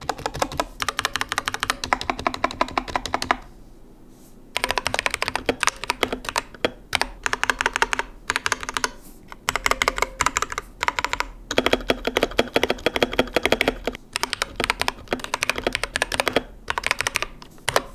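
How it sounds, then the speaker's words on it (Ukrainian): Continuous typing on an Epomaker Ajazz AK820 Pro mechanical keyboard with linear switches, smooth and fairly quiet keystrokes in rapid, steady bursts with a brief pause early on. "Звук натискання не надто гучний, клавіші приємно відпружинюють практично одразу після натиснення."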